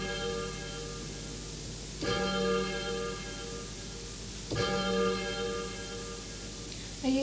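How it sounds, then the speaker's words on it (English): A chiming bell sound effect played from a keyboard rings out in two clear struck chimes a couple of seconds apart, each fading into a sustained shimmering ring over a soft steady background. "chiming bell"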